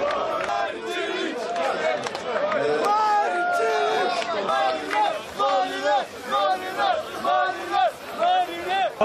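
A crowd of about a thousand tennis fans gathered in a central Zagreb square reacts with loud continuous cheering, shouting and chanting, and the sound rises and falls in waves.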